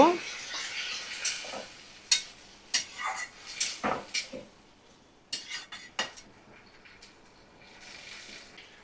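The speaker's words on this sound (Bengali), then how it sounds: "ভালো করে 2 মিনিট কষিয়ে নিচ্ছি।" Chicken stir-fried in a pan for chotpota, with a scattering of sharp spatula scrapes and clinks against the metal over a faint sizzle, close, irregular and thinning out toward the end.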